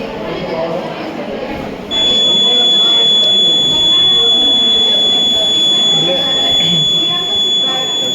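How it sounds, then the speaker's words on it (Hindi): A water level indicator buzzer sounds a steady, loud high-pitched electronic tone once the tank is full, starting after about two seconds and continuing under ongoing voices. "ये बजरटा कहाँ बाजला बजर बाजला कहाँ बाजला"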